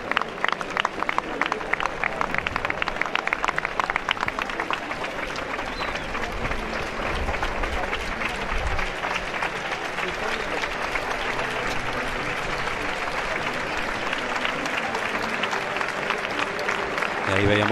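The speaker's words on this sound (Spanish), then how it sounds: "Ahora sí que hay palmas desde los lugares de la sombra próximos a donde está José Garrido, y una ovación que José Garrido va a recoger." A bullring crowd at the Feria de Abril in Seville gives a long, sustained ovation, the dense applause holding at a steady, loud level for the whole stretch.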